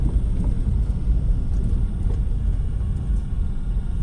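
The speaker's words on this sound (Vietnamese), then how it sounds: "gầm bệ chỉ có tiếng lốp thôi." Inside a moving Zoty T600 SUV with a Mitsubishi 2.0 turbo engine, a steady low tyre rumble from the road hums continuously at moderate level, with no talking.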